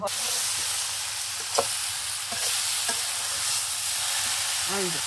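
Vegetable stems frying in spices in a pan, stirred now and then, giving a steady close sizzle broken by a few scraping stir clicks, no talking.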